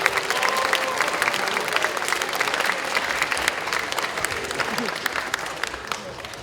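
Students at a memorial lecture applaud the speaker in a full, continuous roll of clapping from a large room, loud and steady before tapering slightly at the end.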